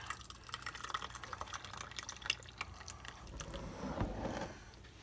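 Strawberry mint lemonade pours into a glass in a soft, close trickle of liquid, with faint clinks and small drips through the five seconds and no talking.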